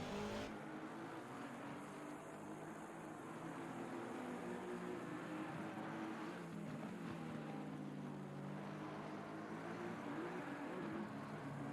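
Race cars on track during the 6 Hours of Misano endurance race, a continuous faint engine drone and whine heard from a distance, holding steady with a slight swell in the middle.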